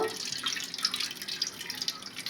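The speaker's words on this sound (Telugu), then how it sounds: "నేను ఇందులో అయితే ఒక టీ గ్లాస్ నీళ్లు వేస్తున్నాను" A tea glass of water is poured into a pan on a lit stove for drumstick-leaf fry, giving a soft, close trickle and splash for a couple of seconds with no talking.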